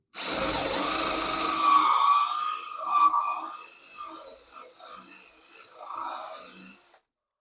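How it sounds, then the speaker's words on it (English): A power drill bores a 1/4 inch hole through thick rough lumber for carriage bolts on a chicken coop roost: a loud, close whirring burst for about two and a half seconds, then it winds down into quieter clicks and handling noises. "we're just going to drill a 1/4 inch hole because I got 1/4 inch carriage bolts."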